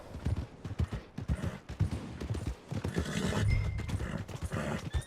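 Horse hooves clip-clop repeatedly through a town street in the video game Red Dead Redemption 2, with a brief neigh and other game sounds mixed in.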